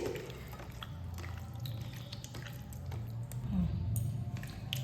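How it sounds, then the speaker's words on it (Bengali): Bare hands mixing Bombay duck fish with salt, turmeric and lemon juice: soft, wet squishing and dripping that goes on steadily, close and fairly quiet. "খুব ভালোভাবে নুন হলুদ আর লেবু রস দিয়ে মাখিয়ে নিচ্ছি"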